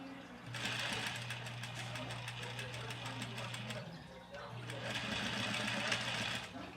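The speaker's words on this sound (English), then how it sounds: "I'm gonna follow this curved edge and to stitch this down." A sewing machine stitches down the curved edge of a dress in two close, steady runs of rapid mechanical chatter separated by a short pause, with a faint voice in the background.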